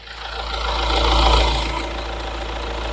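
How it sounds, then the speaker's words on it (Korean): The engine of a 2023 Hyundai Staria-based Camper4 Prestige camper van idles with a steady low rumble, heard from close by. It swells slightly in the middle before settling back to an even idle, with no one speaking. "엔진 소리 한번 들려드리기 위해서 왔는데"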